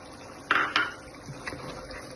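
About 200 grams of yogurt goes into mutton karahi in a pot, marked by two quick, close metallic clinks of a utensil against the vessel, then softer scattered taps.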